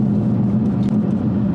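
A 2016 Mustang GT's engine and exhaust hold a deep, steady rumble at close range, a continuous low drone without revving.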